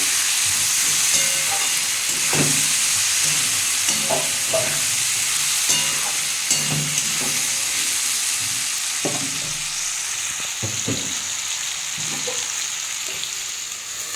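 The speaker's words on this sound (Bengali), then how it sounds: "আমি আলুটাকে ভেজে নেবো একটু চাপা দিয়ে দেবো" Salted potatoes frying in a pan, a continuous close sizzling hiss broken by repeated spoon scrapes and clacks against the pan.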